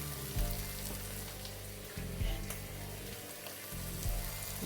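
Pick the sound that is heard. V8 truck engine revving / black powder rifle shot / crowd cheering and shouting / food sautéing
food sautéing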